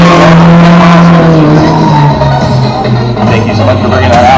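Drift cars at a Streetwise Drift event, engines droning loud and continuous with tire squeal and skidding, a voice talking faintly underneath.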